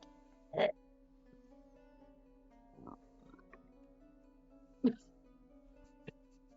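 A fox gives harsh, croaking calls resembling a dying frog, heard as two louder bursts and a few fainter ones spread over several seconds against a quiet background.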